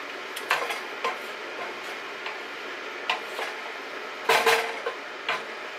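A spoon clinks and scrapes against a pot while tomato sauce ingredients are stirred together, with soft intermittent taps over a quiet background and one louder clatter near the end.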